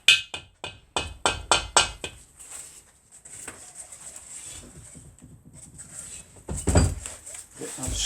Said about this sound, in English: Got a little hide hammer here